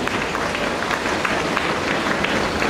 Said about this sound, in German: ein Applaus für den Günther Lehmann.